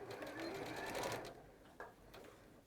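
A Juki sewing machine runs steadily while reverse stitching a quilt corner, a fairly quiet close mechanical whir lasting about a second before it stops, leaving faint room tone and a couple of small clicks.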